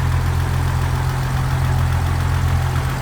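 Inline six-cylinder engine of a 1956 Willys Overland pickup with a single exhaust and 12-volt system idles steadily, a loud, even low rumble held throughout with no talking.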